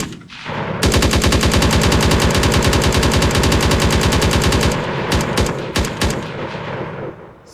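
Weapon effects in an Unreal Engine third-person shooter under development, a loud, rapid, evenly spaced automatic burst lasting about four seconds, then scattered single shots.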